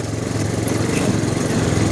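A motorcycle engine labours along a rough road, giving a steady, buzzing, rattly drone heard up close from the bike itself, with no talk over it.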